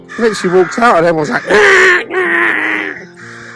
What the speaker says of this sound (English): we're getting a warm welcome this morning by the crows.